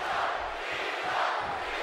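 A wrestling video game crowd in an extreme rules match cheers and roars as a dense, continuous wash of many voices, loud and fairly steady throughout.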